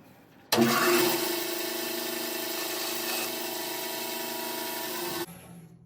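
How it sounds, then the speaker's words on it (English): A bandsaw cuts a small piece of wood in a workshop, a steady loud whine starting abruptly, holding for about five seconds, then dropping as the blade runs down, with no talk. "So the bandsaw is an excellent tool for this."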